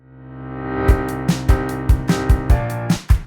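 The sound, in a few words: reverse piano riser over piano and drums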